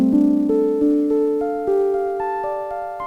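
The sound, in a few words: Baldwin Fun Machine Vibraharp preset organ sound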